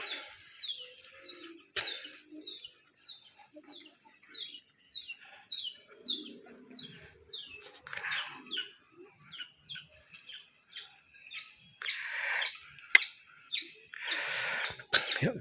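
Birds in a clean mountain village sing in repeated high chirping calls, a rhythmic series of sharp tweets with quieter background noises between them.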